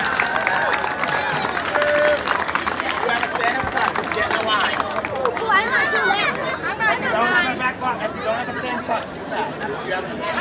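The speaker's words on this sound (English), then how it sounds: "a big round of applause for top-notch cheer" A downtown celebration parade in Fremont where a crowd applauds and cheers for a cheer team, steady clapping and babble under a voice on a loudspeaker, with a few whoops rising over the noise.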